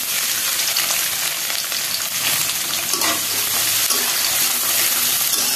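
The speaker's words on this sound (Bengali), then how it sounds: "এখন কিছু পেঁয়াজ কুচি দিয়ে দিই" Chopped onions frying in hot oil with bay leaves and cumin seeds, a loud, steady crackling sizzle with occasional stirring scrapes, close and continuous throughout with no talking.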